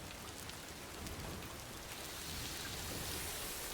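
Steady, dense hiss of rain falling in the video game Death Stranding 2, a continuous wash of drops that holds even throughout with no voices.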